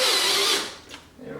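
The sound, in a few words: power drill driving a screw into a Corvette bumper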